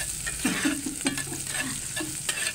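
Ginger frying in a pan with garlic and onion, a steady sizzle with scraping stirring strokes, close and moderately loud, no talking.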